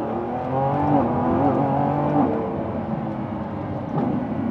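Lamborghini Revuelto 1015hp V12 accelerating at about quarter throttle, a steady, loud engine note with rising harmonics heard from inside the car throughout.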